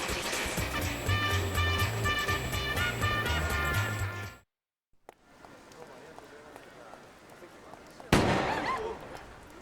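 Gunshot in the video game Yakuza 4: a single sharp crack near the end, loud and close, following a quiet stretch of ambient scene noise after in-game music cuts out.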